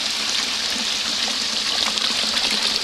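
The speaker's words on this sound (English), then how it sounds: "here's a little creek" A small year-round creek in the Philippines, running during the dry summer, flows with a constant close rushing trickle of water, with no speech.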